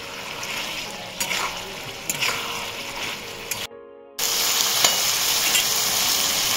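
A spatula stirs cauliflower stalk chorchori with salt and sugar in a frying pan, producing scraping and sizzling over a steady hiss, broken by a brief dropout before the frying returns louder.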